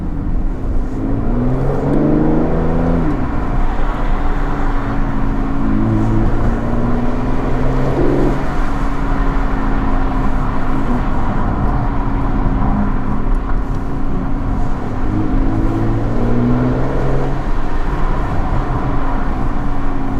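An Aston Martin DB11 in sport mode revs and accelerates hard, its engine note climbing through gear changes with rising and falling pitch sweeps, loud and close over steady road and tyre noise.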